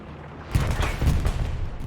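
Machine gun fire in Hell Let Loose starts in a sudden burst of rapid, punchy shots and keeps chattering for a second or so, loud and close.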